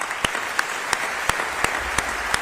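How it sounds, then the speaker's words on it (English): An audience at Houston's State of the City address claps for city employees, with sharp, evenly spaced claps standing out above a low steady background, no voices. "I feel like they deserve another round of applause."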